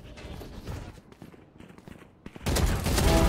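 Heavy shooting erupts in a Valorant ranked match on the Icebox map, with scattered lighter shots and footsteps giving way to a loud, sustained volley near the end.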